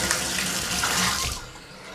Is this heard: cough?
no